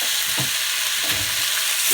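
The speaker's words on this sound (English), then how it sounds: "Stir that around" Canned Rotel tomatoes with jalapenos being stirred in a hot pan: a steady broadband sizzle runs throughout, with a few soft scraping strokes of the spoon as it moves through the food.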